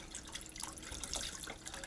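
Broth poured into a warm pan while making ramen and egg soup, a quiet liquid splashing and trickling sound with faint dripping, soft and close.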